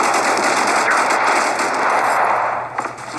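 Sustained, loud automatic gunfire from a mobile team deathmatch shooter game, a dense continuous rattle of shots that holds steady for most of the stretch before briefly thinning near the end.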